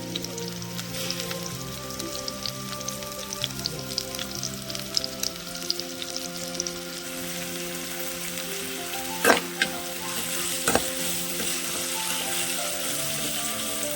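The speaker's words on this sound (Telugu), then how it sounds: "ఉల్లిగడ్డ పచ్చిమిర్చి బ్రౌన్ కలర్ వచ్చే వరకు వేయించుకోవాలండి" Onions and green chillies fry in a pan for an egg tomato curry, a steady close sizzle and crackle with a couple of sharp scraping knocks partway through, no voices.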